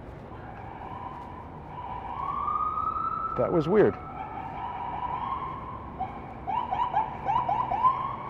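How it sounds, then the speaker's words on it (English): An NYU ambulance siren passes through a New York street, wailing in rising and falling sweeps that grow louder and then trail off, with a brief spoken remark over it. "That's the first ambulance I've seen in days with the lights and siren on."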